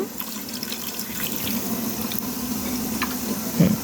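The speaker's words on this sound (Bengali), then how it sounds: "এখন আমরা আরেকটু পানি দেব।" Water pours from a container into a pot of duck curry cooking on the stove, a short, steady splashing trickle with a slight gurgle near the end.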